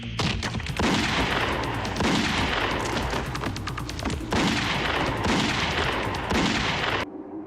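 Rapid pistol gunshots crack in dense bursts of overlapping reports during a border firefight, loud and close, with short gaps between volleys and a sudden stop near the end.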